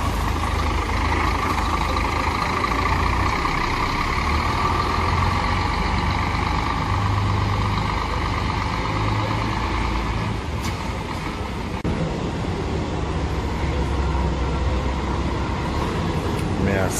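Expresso Itamarati intercity bus pulling out of Santa Fé station bound for São Paulo, a steady heavy diesel drone with station traffic around it and a brief air-brake hiss, talk audible underneath.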